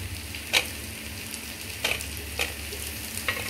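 Onions sauté in a pan during home cooking with a steady, close sizzle broken by a few sharp spatula scrapes and stirs.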